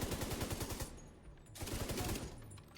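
Rapid automatic fire from a light machine gun in The Division 2, two sustained bursts of dense, rattling shots separated by a short gap, loud and close.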